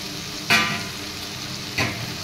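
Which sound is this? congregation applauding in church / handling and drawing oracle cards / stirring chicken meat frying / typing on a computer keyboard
stirring chicken meat frying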